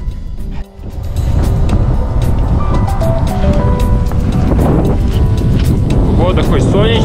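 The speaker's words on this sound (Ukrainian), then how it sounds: "Погода хоч сонячна, но вітряна. Вітер здуває багато снігу, пилюки." Strong winter wind on Mount Kazbek roars and buffets the microphone in a constant, loud rush, blowing snow and dust, with faint tonal whistles drifting through.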